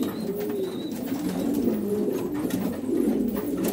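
Domestic tumbler pigeons coo in soft, repeated throaty phrases, close and steady over a constant low background hum.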